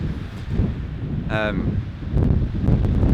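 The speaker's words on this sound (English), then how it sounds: "It's a lot windier up here, so I'm just hiding behind this tree." Strong wind blows on an open hilltop beside a tree, roaring and buffeting the microphone in a low rumble, with a brief tonal whistle and a few sharp ticks.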